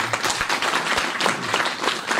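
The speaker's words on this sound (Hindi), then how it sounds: "जोरदार ताली बजाओ यार" An audience at Shri Siddheshwar Dham in Sagma, Satna, clapping loudly together, a dense rapid patter of many hands sustained throughout, with no talking.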